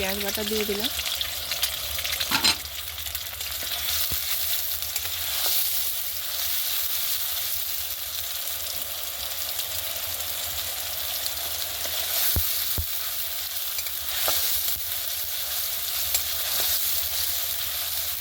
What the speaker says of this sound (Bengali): পেঁয়াজটা একটু ভাজা হয়ে গেলে সব মশলাগুলো আস্তে আস্তে দিয়ে দেবো আদা রসুন